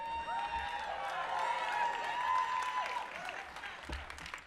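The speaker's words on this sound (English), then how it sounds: "You may now applaud." An awards ceremony audience claps and cheers steadily for a few seconds, a dense wash of applause with a few whoops mixed in.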